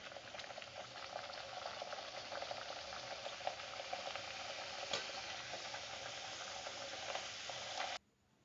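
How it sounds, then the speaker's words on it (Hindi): Puris frying in ghee crackle and sizzle in a steady, faint bubbling hiss that carries on without a break before stopping suddenly. "अब हम इसी तरह से सारी पूरियाँ फ्राई कर कर ले लेते हैं।"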